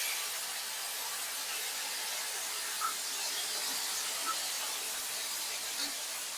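Curry poured over fried onions in a shallow frying pan sizzles with a soft, steady hiss, a faint continuous crackle of hot oil heard up close with no one speaking.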